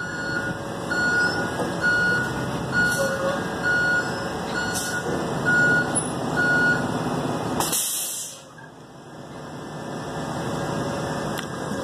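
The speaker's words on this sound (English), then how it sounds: "This is 1120 and that's the daycare bus." A daycare bus idles and pulls away outside a school, steady engine rumble with a repeating high reversing beep, a short hiss like an air brake partway through, then a quieter engine drone; a voice is faintly present.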